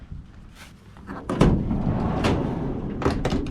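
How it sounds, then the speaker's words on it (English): A clean Astro van's sliding door rolls open at a vehicle auction: a short rumble, a solid thud, then a smooth, fairly close slide with a few rattles, and no talking. "that sliding door just opened like butter"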